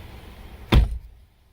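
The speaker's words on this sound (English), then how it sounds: "Let me close the door." The door of a 2020 Nissan Sentra is shut from close by, making a single solid thud that rises sharply and quickly dies away, with quiet surroundings before and after.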